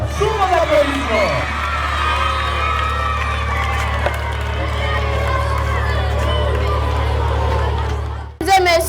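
A school crowd at a student election campaign event cheers, whoops and applauds a candidate, a loud continuous wash of voices and clapping lasting most of the clip before cutting off abruptly near the end.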